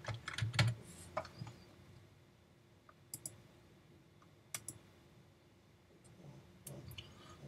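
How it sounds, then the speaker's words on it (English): A computer keyboard is typed on in a few quiet, close clicks and short bursts separated by long gaps over a faint steady hum, with no one talking. "I'm going to type them down."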